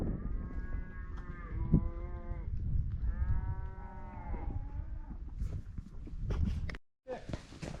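Cattle moo loudly and repeatedly nearby during a fall gather north of Reno, Nevada, long low calls overlapping, with shuffling hooves and rustling toward the end.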